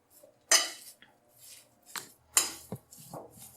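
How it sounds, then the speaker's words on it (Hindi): Cooked chicken is mixed into mashed potatoes in a bowl, with intermittent spoon scrapes and knocks against the dish separated by short quiet gaps. "ये चिकन जो सारा ऐड कर दें इसके अंदर। इसे अच्छे से मिक्स कर ले।"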